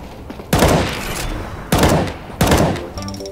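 Gunfire from Counter-Strike: Global Offensive: three loud, sharp bursts roughly a second apart, each decaying into a reverberant tail, with no talking over them.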